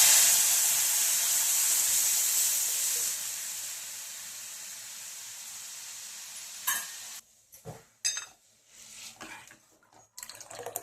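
A yogurt mixture for kadhi pakoda is poured into a hot tempering of cumin seeds and curry leaves, giving a loud, steady hissing sizzle for several seconds that then drops to quieter scattered clatter.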